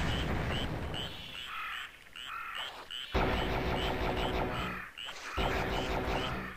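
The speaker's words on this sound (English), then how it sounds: "Got some, I don't know, bullfrogs or something?" Bullfrogs croak in a Doom level, with repeated deep, throaty calls in uneven bursts that stand out loudly against a humming ambient backdrop.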